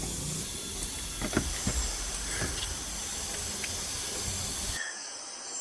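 Flour mill grinding rice into flour, a loud steady hissing roar that runs without pause and then cuts off abruptly near the end, leaving a fainter high whine.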